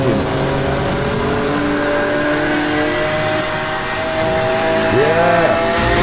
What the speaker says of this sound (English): And hear the sound of this engine.